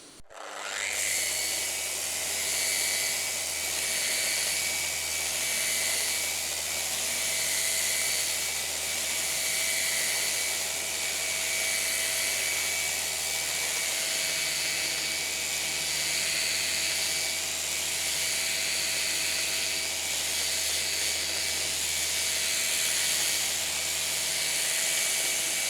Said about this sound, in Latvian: tikai vien bija tā slīpēšana